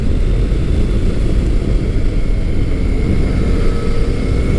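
A Yamaha FJ-09 motorcycle ridden through twisty roads gives a steady, loud engine drone mixed with rushing wind roar, continuous and unbroken, with no one talking.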